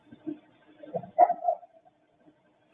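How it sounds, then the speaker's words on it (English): Dog barking at a distance outdoors, a few short muffled barks and yips in a quick irregular cluster, faint against a quiet background. "But I hear a dog."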